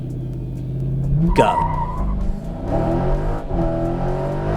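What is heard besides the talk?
2019 Dodge Challenger R/T Scat Pack engine accelerating on launch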